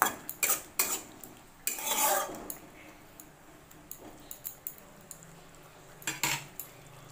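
Metal spatula clinking against a cooking pan while being rinsed, a series of sharp irregular taps and scrapes, some in quick clusters, fairly close with quiet gaps between.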